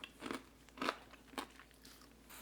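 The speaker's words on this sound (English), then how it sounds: "But you have to hear the crunch on this." Crispy-skinned pork belly cooked on a Weber kettle crunches three times as it is bitten. The close, crackly bites come at an even pace, with no talk over them.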